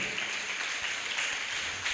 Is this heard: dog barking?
no